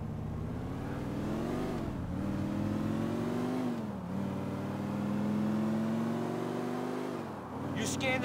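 A car engine in the video game Grand Theft Auto IV hums and revs steadily, rising and falling through gear shifts as the vehicle drives on, loud and close throughout.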